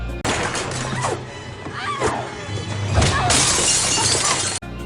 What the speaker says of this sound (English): Roman punching Sarah through glass